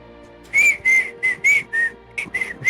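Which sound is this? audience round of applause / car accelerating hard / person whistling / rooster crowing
person whistling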